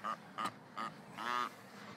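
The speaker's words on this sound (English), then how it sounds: "Oh, the ducks are coming back here because Doug's down there." Ducks quacking and honking in short bursts near a swamp, with three brief calls followed by a longer drawn-out honk, fairly close and distinct over quiet background.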